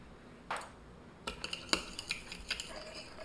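Cutlery clinks against a bowl as Indomie Goreng instant noodles are mixed with their seasoning, a few soft scrapes followed by a scattered series of light metallic taps, quiet and close with no talking.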